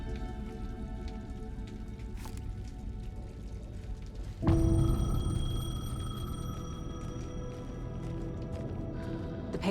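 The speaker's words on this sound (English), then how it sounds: "The payphone was ringing." A payphone starts ringing partway through a scene in the game Alan Wake 2, a sustained electronic ring cutting in suddenly over a steady bed of rain and dripping ambience.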